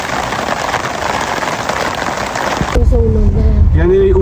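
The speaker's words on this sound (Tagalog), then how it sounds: "Maulan." Steady rain patters densely and fairly loudly for nearly three seconds, then a voice speaks briefly as the rain noise drops away.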